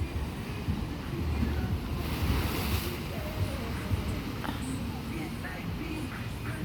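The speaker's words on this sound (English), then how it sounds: "Look at those waves over there crashing." Ocean waves roll and crash onto a Hawaiian shore where children jump into the water, a steady loud surf wash with wind buffeting the microphone throughout.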